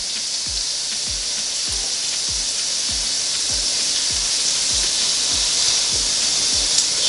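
Bacon sizzles and hisses steadily inside a NuWave Primo grill oven, with soft, regular low ticks or pops recurring about every half second beneath the continuous frying.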